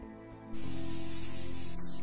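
Pepper spray from the video game Police Stories bursts on suddenly as a loud, continuous hiss that holds steady for over a second after a quiet start.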